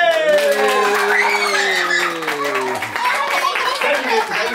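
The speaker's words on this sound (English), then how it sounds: "And a big round of applause for" Audience clapping after a rope magic trick, a dense patter of applause mixed with loud voices and laughter from people close by.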